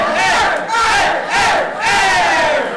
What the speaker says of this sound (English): The crowd is going wild right now.